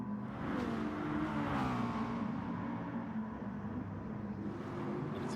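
Hyundai race car accelerating alongside a McLaren and a GR4 in a racing video game event: a steady mid-level engine drone with rising revs and shifting tones, blended with other car engines.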